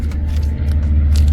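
A car engine running with a steady, loud low rumble throughout, close by and with no talk over it.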